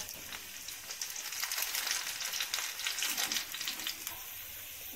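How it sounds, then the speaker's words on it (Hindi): Onions frying in hot oil for aloo tahari, a dense, continuous crackling sizzle, close and steady, with occasional faint stirring touches. "अब हमारा ये हम ऑयल डालेंगे, इसको हल्का सा गर्म होने देंगे, और इसमें प्याज ऐड कर देंगे,"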